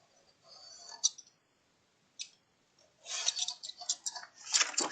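Scissors cut paper into the fold of a pop-up album page, giving faint, crisp snips and clicks broken by near-silent gaps, then a busier run of cutting and rustling toward the end.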